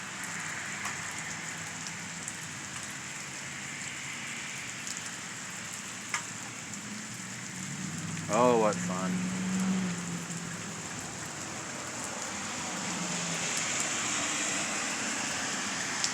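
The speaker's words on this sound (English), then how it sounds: "it looks like this rain's going to keep on for quite a while" Steady rain falls on a surface in a lightning storm, a broad continuous hiss holding even throughout, with a brief spoken remark and a short chirping sound partway through.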